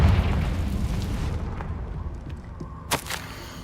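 Confringo fire spell in the video game Hogwarts Legacy, a deep rumbling fiery blast that fades slowly, followed by a short sharp pop near the end, with no voices.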